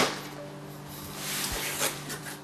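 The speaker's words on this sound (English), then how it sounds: "So let's start the unboxing right now." Packaging being rubbed and handled while unboxing a Dewalt DCE511B cordless jobsite fan, a close, soft scraping rustle with one low thump midway and no talking.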